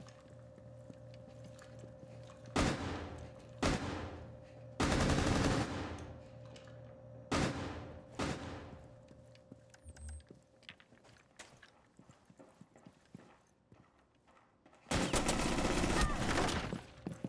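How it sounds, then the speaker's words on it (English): Bursts of automatic fire from the Alibi gun in Rainbow Six Siege, several short loud volleys spaced apart with quieter game ambience between, ending in a longer sustained burst. "that Alibi gun is a lot bouncier for some reason than what I remember"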